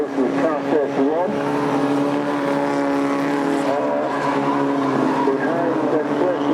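Ford XR2 championship cars racing at Croft circuit, engines roaring close and loud with revs rising and falling through gear changes, a commentator talking over the noise.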